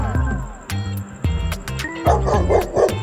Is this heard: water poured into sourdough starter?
no